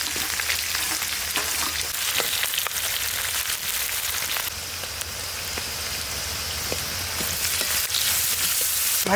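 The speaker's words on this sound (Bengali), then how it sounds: "কাঁচা লঙ্কা ভাজা" Green chilies fry in hot mustard oil, giving a loud, dense, continuous crackling sizzle like heavy rain, steady from start to finish with scattered sharper pops.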